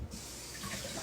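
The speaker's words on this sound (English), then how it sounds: "I'm going to wash them right now." Tap water runs steadily into a sink as onions are washed under it, a continuous broadband splashing rush that holds close and moderately loud throughout with no talking.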